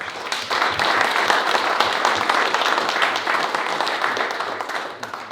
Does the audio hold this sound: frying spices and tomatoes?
no